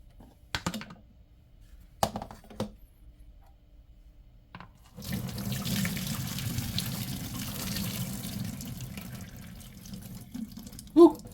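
Water drains from a pot of cooked food into a kitchen sink, a steady, fairly loud rushing pour that lasts several seconds after a few quiet clinks and knocks of handling.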